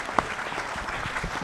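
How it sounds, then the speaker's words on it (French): A conference audience claps for a speaker, a short burst of dense applause with no voices rising above it. "Très bien, écoutez, on peut l'applaudir."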